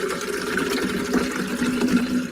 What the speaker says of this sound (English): And now we're going to add in 5 cups of water.